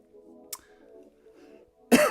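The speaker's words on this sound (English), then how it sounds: "got a little bit of a cough here" A single loud, harsh cough bursts out at the end after a quieter stretch with a faint background hum and a brief click.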